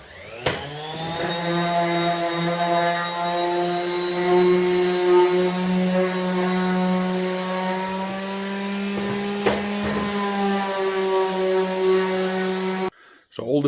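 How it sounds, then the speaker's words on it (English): An orbital sander doing fine sanding on raised-panel rail and stile wooden doors whines steadily and loudly for about twelve seconds, with a few brief knocks along the way, then cuts off abruptly near the end. "I'm just going to use my orbital sander for that"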